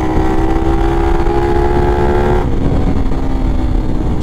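A motorcycle engine with 14/36 sprocket gearing revs loudly and steadily up close, its pitch climbing and then settling into a sustained high drone.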